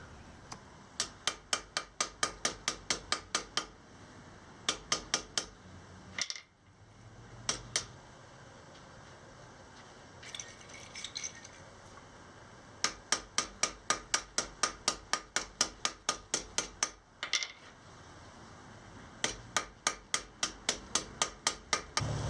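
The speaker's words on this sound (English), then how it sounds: "I went back with these light taps to help shrink the hammer marks." Light hammer taps on a pair of hand-forged iron tongs, delivered in quick even runs of sharp metallic strikes separated by short pauses, with a faint background hum.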